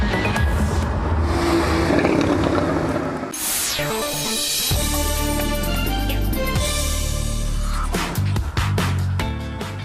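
A loud naturally aspirated mid-engine sports car roars and revs continuously with wind rush, shifting pitch as it accelerates, heard up close with the top down.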